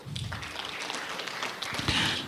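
An audience at a conference on ombudsmen fighting corruption claps for a speaker. The clapping is faint and scattered, with patters of light hand claps in a quiet hall.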